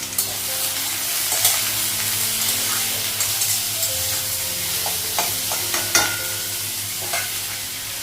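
Potatoes and onions frying together in a pan, a loud continuous sizzle with occasional spatula stirs and clinks against the pan, heard up close and without any voices.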